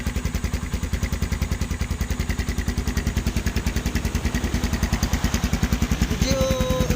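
A Z200X motorcycle fitted with an aftermarket silencer idles close by with a steady, rapid low-pitched exhaust putter that rises slightly toward the end, heard alone.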